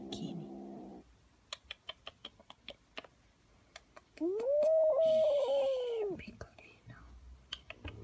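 Very young kittens give short, sharp spitting hisses in a rapid scatter and one loud, drawn-out wailing meow up close, while a person whispers softly nearby.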